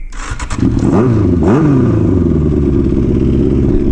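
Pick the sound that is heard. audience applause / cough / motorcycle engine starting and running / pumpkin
motorcycle engine starting and running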